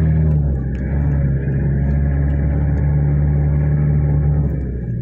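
A vehicle engine runs steadily and loudly up close, a continuous low rumble with a constant hum that holds for the whole stretch with no talk.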